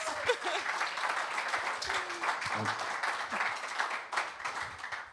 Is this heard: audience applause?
yes